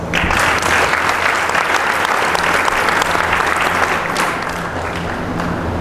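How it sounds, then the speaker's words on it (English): Audience applause for a graduating grade 12 class of 2021, dense and steady clapping from a large crowd, loud and sustained throughout with no speech over it. "please give them a round of applause."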